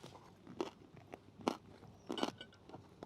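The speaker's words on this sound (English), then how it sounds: "you've got the crunch of the crackling on the outside, then the pork inside" Crunchy pork belly crackling being chewed at a pub table, with a string of sharp, close crunching bites spaced irregularly between quieter chewing.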